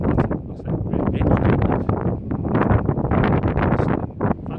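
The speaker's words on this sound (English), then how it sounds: "It is quite windy, like." Gusty wind batters an open moorland hillside near a Halifax bomber crash site, loud rushing and buffeting bursts hitting the microphone continuously without pause.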